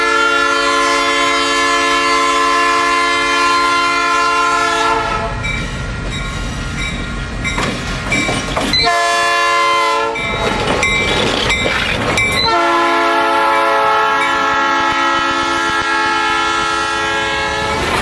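EMD GP38-2 locomotive 3833, running long hood forward in a veterans paint scheme, passes close by, its loud multi-tone horn blaring in long blasts broken by the rumble and clatter of the train between them.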